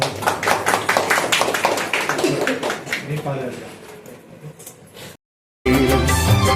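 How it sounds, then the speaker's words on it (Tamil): Applause from family and guests at a Tamil housewarming ceremony: dense, sharp clapping with people talking over it. It thins out toward the end, breaks off in a brief silence, then comes back loud. "நல்லதொரு கைதட்டு கொடுத்து இந்த குடும்பத்துக்கு"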